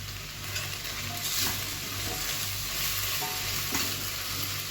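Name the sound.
stirring okra frying with onion and garlic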